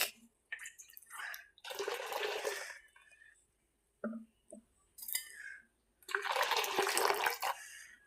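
Water poured into a spicy chili mixture for pani puri water in a home kitchen, heard as a few short, close splashing bursts separated by quiet pauses.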